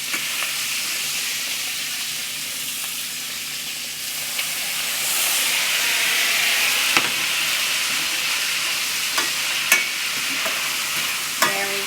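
Sausages fry in a pan with a loud, continuous sizzle and hiss, broken by a few sharp clicks and taps from the utensils.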